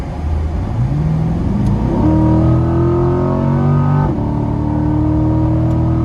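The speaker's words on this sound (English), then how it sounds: "we're going to do a pull, and let's see how this puppy accelerates and see if we can get that exhaust note coming from right behind us" A Corvette pulls hard at full throttle from close behind, its exhaust note swelling and climbing in pitch, dropping briefly at a gear change and climbing again, loud and steady with no talk.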